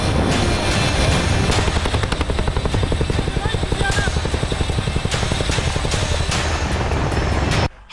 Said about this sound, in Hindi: वायुसेना के पास ऐसे ट्रांसपोर्ट हेलीकॉप्टर 15 मौजूद हैं